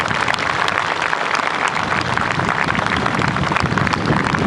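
Dense, steady applause from a large outdoor audience at the Navy Day 2023 display at Sindhudurg as marine commandos land, a continuous rain-like clatter of clapping with no break.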